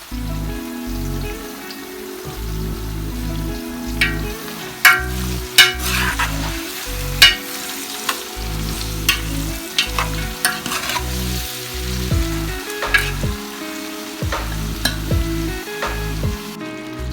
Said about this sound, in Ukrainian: Коли олія закипає, додаємо туди моркву.